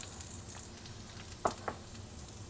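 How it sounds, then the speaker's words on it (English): Onions dropped into preheated olive oil in a pan give a soft, steady sizzle with a couple of brief clattering taps, fairly quiet and close. "we're going to add these onions in"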